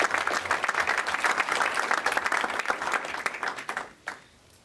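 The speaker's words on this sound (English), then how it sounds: "let's give a big round of applause to the panelists" An audience applauds panelists at an indoor event, with dense, steady clapping from many hands that holds for a few seconds and then quickly tapers off to near quiet.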